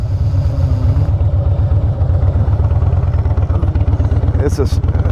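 A 2014 Harley-Davidson Breakout with a 103 twin cam engine and aftermarket exhaust idles loud and close, with a steady lumpy potato-potato pulse throughout.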